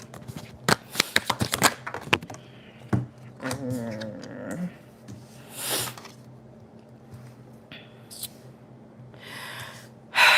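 Tarot cards being shuffled by hand in a quick burst of crisp riffles and slaps near the start, followed by softer sporadic card handling and faint breaths or gasps, with a sharp sound at the very end.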